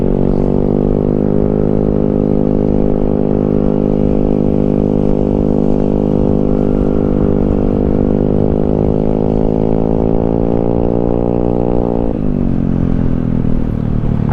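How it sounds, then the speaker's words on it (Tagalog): Very loud, harsh exhaust of a Yamaha Mio Sporty scooter climbing uphill on the Marilaque road, a sustained buzzing drone that rises steadily in pitch as it revs, then drops abruptly near the end. "Sakit sa tainga yung ano, muffler ng Mia Sporty mga master."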